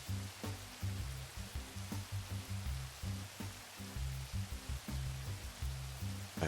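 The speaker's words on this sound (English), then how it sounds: "Oh, yep. It is raining." Rain falls in the Tropico 4 game world, a steady close hiss of drops on surfaces with soft pattering and a faint low rhythmic pulse beneath, no voices.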